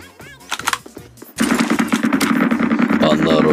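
Gunfire in the Metro Royale mode of PUBG Mobile: a few separate shots, then a loud sustained burst of rapid automatic fire that continues to the end.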